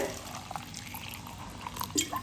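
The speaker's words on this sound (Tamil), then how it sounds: "இப்போ இதுக்கு தேவையான அளவு தண்ணி ஊற்றிக்கலாங்க." Water is poured into a grinder jar holding cumin, small onions and garlic, giving a short splashing, dripping trickle with a few close liquid drops.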